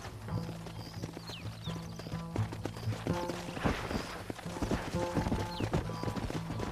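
Hooves clip-clop in a quick galloping rhythm from a horse in the video game Red Dead Redemption, fairly quiet, with occasional mechanical clanks and a faint whinny in the mix.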